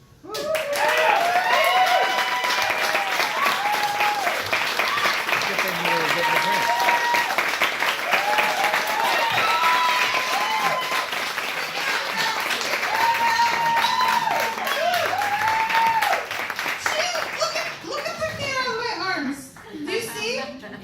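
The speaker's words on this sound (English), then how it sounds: "One more round of applause for Lucera, everyone, please" Clapping rises from a live audience for a performer named Lucera at a cabaret-style salon show, with whoops and shouted cheers riding over the applause throughout before it tapers off near the end.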